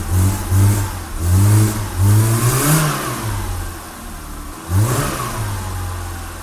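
A 39-year-old BMW E30 engine revs after a cold start with a high idle, rising and falling in several throttle blips before settling into a lower rumble, then one more rev near the end, close and loud with no talking.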